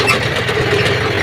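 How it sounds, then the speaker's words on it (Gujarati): A John Deere 5310 tractor fitted with a cutter runs at a steady, close, rumbling idle in a rice field, with no pauses. "તો અહીંયા કણ આપણું ટ્રેક્ટર જોન ડીયર ટ્રેક્ટર કટરવાળું છે."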